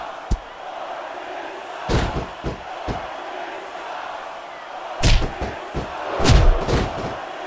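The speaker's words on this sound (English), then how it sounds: "I can't remember the last time I seen a crowd so pumped up" A wrestling-arena crowd in the WWE SmackDown vs Raw 2006 video game roars and swells behind heavy slams and thuds from a singles match, with commentators talking over it.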